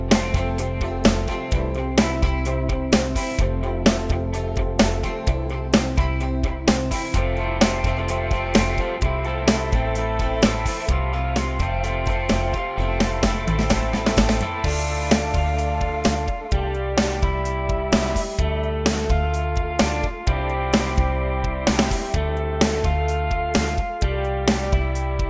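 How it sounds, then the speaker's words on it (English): Acoustic rock drum kit plugin playing a steady groove with punchy kick, snare backbeat and cymbals, inside a full band mix with sustained tones. "But a nice sounding rock kit."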